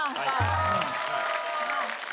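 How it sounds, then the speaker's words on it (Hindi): Studio audience of a Hindi comedy show applauding a poem, dense clapping that is moderately loud throughout, with a voice speaking over it. "जोरदार तालियां कविता के लिए।"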